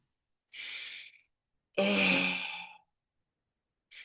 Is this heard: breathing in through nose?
yes